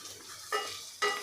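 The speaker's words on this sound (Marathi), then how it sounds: "आता हे सगळं आपल्याला परतवून घ्यायचं आहे" Onion sautéing in a pan with turmeric and salt, a soft steady sizzle with two sharper stirring scrapes, close and alone with no talk.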